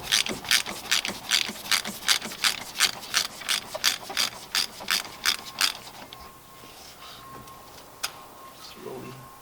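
Socket wrench ratchet clicking in rapid repeated strokes while loosening the oil filter housing on a 2019 Mercedes GLA250, a close rhythmic burst of about a dozen clicks, then quieter handling sounds.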